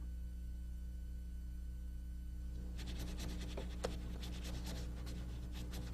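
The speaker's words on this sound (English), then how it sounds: "See, I'm dry brushing this in." A dry bristle brush drags paint across canvas to soften a cloud in a canyon landscape painting, giving faint, rhythmic scratchy strokes that begin partway through over a steady electrical hum.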